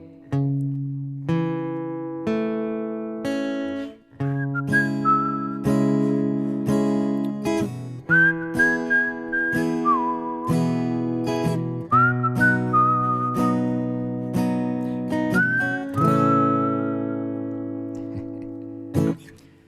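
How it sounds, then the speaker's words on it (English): Someone whistles a clear, lilting melody over steady instrumental backing, the tune rising and falling in short phrases throughout. "For once, it's a song that actually has a whistling part in it."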